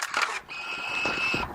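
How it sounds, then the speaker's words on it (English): Fuji GX680 medium-format camera firing its shutter while mounted on a tripod: a single mechanical release with a sustained whirring mechanism for about a second, close and fairly quiet, with no voices. "I'm going to press the shutter now."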